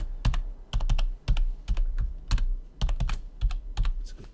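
Passphrase being typed on a computer keyboard: a close, steady run of crisp key clicks in uneven bursts, about a dozen distinct strokes with short pauses, no voices.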